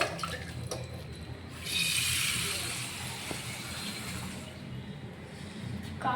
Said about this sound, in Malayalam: ആ പാത്രം കഴുകട്ടെ.